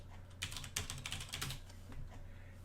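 Quick light keystrokes on a computer keyboard as a password is entered, a short burst of close, quiet clicks.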